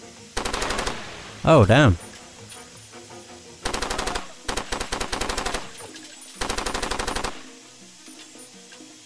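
Automatic gunfire in the video game Far Cry 2: several loud, rapid bursts separated by short pauses, with a brief spoken exclamation between them.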